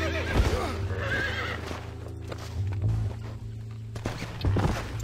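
Horses in the Red Dead Redemption video game neigh and whinny while hooves clip-clop close by, with loud, busy overlapping game sounds throughout and no clear talk over them.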